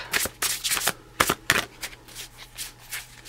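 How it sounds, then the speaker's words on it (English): Tarot cards are shuffled by hand at close range, with quick riffling bursts and soft slaps repeating irregularly over about three seconds under a low hum. "I shuffle these cards in front of you"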